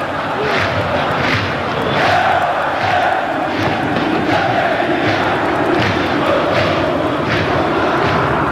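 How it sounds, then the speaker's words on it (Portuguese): Flamengo supporters fill a stadium with rhythmic chanting and cheering, a dense, loud mass of voices swelling in repeated pulses throughout. "Canta a torcida rubro-negra."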